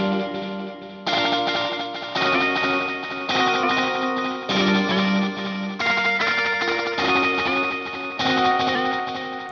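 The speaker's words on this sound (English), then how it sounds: "I'm talking about the Space Force Reverb pedal, which I think is my favorite new pedal of 2022." A reverb pedal on electric guitar, washing chords and notes in spacious, echoing tails that ring on continuously with steady loudness, with no voice heard.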